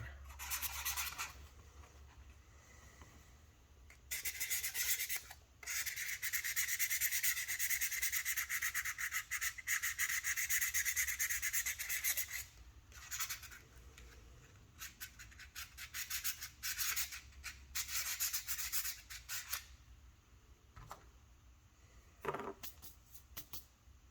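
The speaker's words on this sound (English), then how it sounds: "So we'll sand this side down." Sanding on one face of a magnetic scabbard for a Ryu Hayabusa prop, with long, steady abrasive rubbing strokes close up, broken by short pauses.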